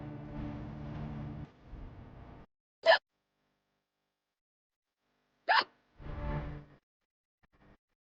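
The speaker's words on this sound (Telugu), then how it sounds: "ఎక్కిళ్ళు వస్తున్నాయి" Two sharp, brief hiccups a few seconds apart, with quieter murmuring sounds before and after them.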